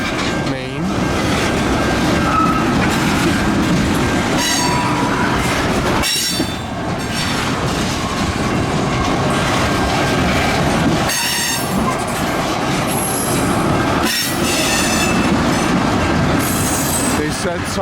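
CN local freight train 583, led by locomotives 4910 and 47, rolls through a crossover onto the main line near Paris, Ontario, with loud steady wheel rumble, clicking rail joints and squealing wheels.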